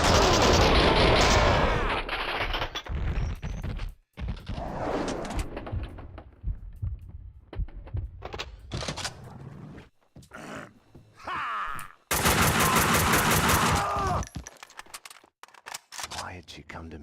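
Gunfire and loud action sounds from the video game Max Payne 2 come in dense bursts with short gaps, layered with game noise and a voice speaking.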